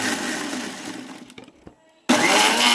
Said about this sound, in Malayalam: മിക്സിയിലേക്ക് ഇട്ട് നന്നായി അരച്ചെടുത്തു